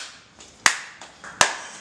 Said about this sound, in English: let's clap your hands real loud